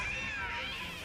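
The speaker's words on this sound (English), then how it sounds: "A cat?" A cat meows in a bright, sustained wavering cry, fairly close and alone, with no talk over it.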